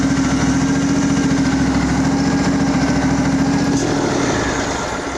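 A Craftsman riding lawn mower's engine runs loud and steady at full throttle, a continuous rough drone that holds without a break, then dips and begins to sputter near the end, as if starting to die.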